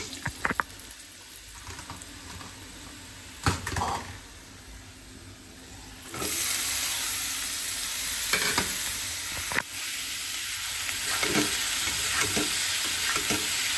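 Bitter gourd frying in a pan with salt, turmeric and chili powder, faint stirring knocks at first, then a louder steady sizzle with occasional spoon clacks, close and without talk.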